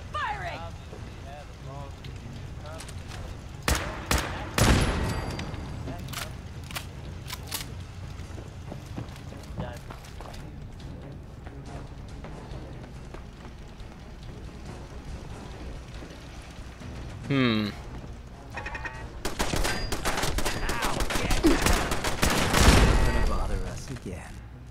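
A firefight in Fallout 4 brings scattered gunshots, a few sharp close bursts and later a dense spell of rapid fire, heard over ambient game noise with someone talking at times.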